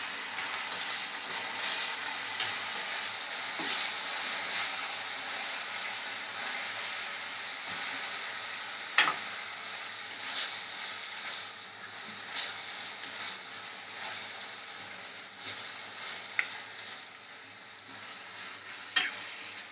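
Keema frying with ginger and garlic paste in a pan, dhaba style: a steady, close sizzle runs throughout with occasional faint clicks from stirring.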